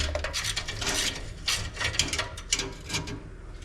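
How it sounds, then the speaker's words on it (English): Wrench turning a heated exhaust nut on a 2005 Nissan Titan 4x4, giving a steady run of rapid ratcheting clicks and grinding metal rubs, close and moderately loud with no talking. "I might be turning the nut."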